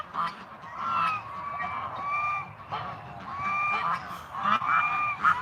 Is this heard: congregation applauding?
no